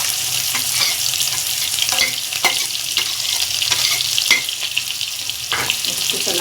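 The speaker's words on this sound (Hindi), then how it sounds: "अब एक मैंने बड़ा प्याज लिया है, प्याज डाल रही।" Finely chopped onion frying in a pan for suji upma, a steady loud sizzle with a spoon scraping and stirring at irregular intervals, close up.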